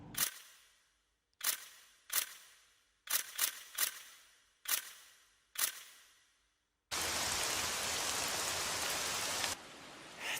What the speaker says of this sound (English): there's been a total downpour